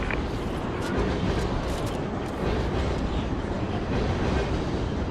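A train rumbling in the video game Call of Duty: Ghosts, a dense continuous roar with rattling, metallic clatter throughout, no voices.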